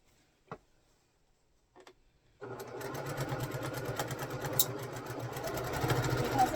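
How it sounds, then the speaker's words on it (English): After a couple of quiet clicks and a pause, a sewing machine starts stitching a row of cotton fabric, a rapid even mechanical ticking and whirr that builds slightly and continues steadily to the end. "we're getting close to almost being done sewing that first row"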